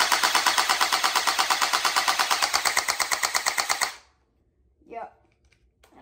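A gel blaster pistol loaded with water gel beads fires a rapid, evenly spaced burst of sharp clicking shots for about four seconds, loud and close, then stops, followed by a brief murmur.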